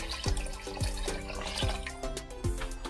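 Water poured into a cooking pot for Filipino sour goat soup (sinampalukang kambing), a steady splashing stream with rhythmic low glugs repeating about every half second, loud and close, no talking.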